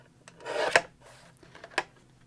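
A paper trimmer cuts a strip off the edge of a handmade card, two short rasping slides close by with a faint click at the end of each, in a quiet room with no talking.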